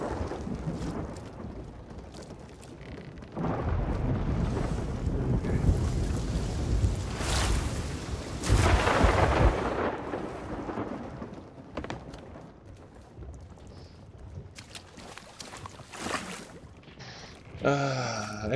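A stormy sea in Sea of Thieves, with gusting wind, heavy rain and rumbling thunder surging and fading around a boat, building to loud roaring bursts before easing off, with no one talking.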